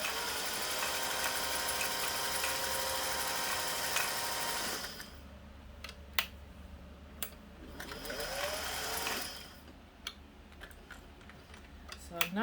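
A Singer 500a sewing machine runs steadily, its fast mechanical whir and ticking loud and close for several seconds, then stops, leaving quiet clicks, a brief renewed burst of stitching and a few sharp taps.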